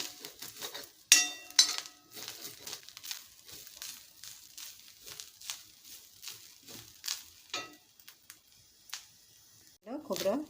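Kuda pods being roasted in a pan for a Malvani-style wild vegetable dish, with scattered crackles, light scraping and metallic clinks of stirring, someone speaking throughout.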